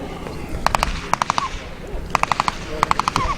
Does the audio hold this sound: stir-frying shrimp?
no